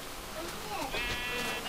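Sheep in Minecraft give a few short bleats, about one second long, with a wavering tone. They sit under steady game noise while someone talks over them.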